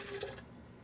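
Hot water pours into a container, a brief liquid rush that is loudest in the first half-second and then trails off into a quiet bubbling fill.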